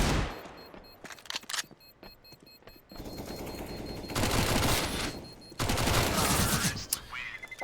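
Bursts of automatic gunfire from a Counter-Strike esports match crackle in dense volleys, building from scattered shots into long, loud continuous firing with brief gaps between bursts.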